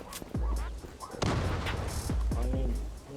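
A grenade goes off in the online shooter Zula during a competitive match, a heavy boom followed by gunfire bursts and game effects, with a voice talking over the action.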